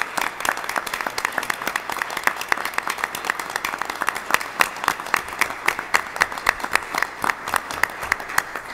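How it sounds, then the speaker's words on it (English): A crowd at a board of education meeting applauds steadily, many hands clapping in a dense, even patter that holds for several seconds. "we want to give them a round of applause."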